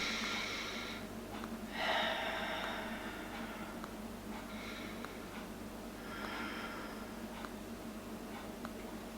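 Slow, deep inhales and exhales during a full-body stretching routine, soft and close, with several airy breaths spaced a few seconds apart in an otherwise quiet room.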